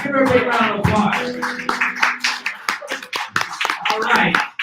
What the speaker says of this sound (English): All right, Jesselyn Radack, give her a big round of applause.